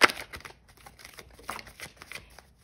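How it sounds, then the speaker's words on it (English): Cards riffle and slap together in a brisk shuffle, a short run of crisp papery clicks up close. "I'm gonna go ahead and shuffle."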